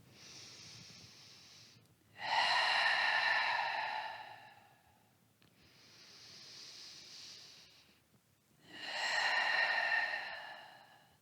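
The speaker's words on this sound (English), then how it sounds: "A couple more breaths." Slow, deep breaths during a yoga session: two long, loud breathy inhale-exhale cycles with a softer breath between, each swelling and fading over a couple of seconds, alone with no talk.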